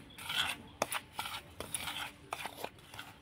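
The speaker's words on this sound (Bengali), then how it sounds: "এবার আমি লবণটা ভালো করে মিশিয়ে নেব একটুখানি।" Flour and salt being stirred in a bowl with a spoon, producing soft, close scraping and rasping strokes in an irregular rhythm with a few sharper taps against the bowl, no voices.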